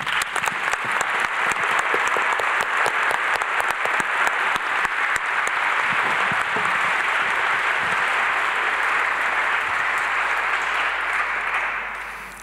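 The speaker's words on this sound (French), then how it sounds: "Merci infiniment, Fabienne, que l'on peut applaudir." Long, steady audience applause at an institute's anniversary ceremony, dense rhythmic clapping from a large crowd filling the hall for about twelve seconds before fading.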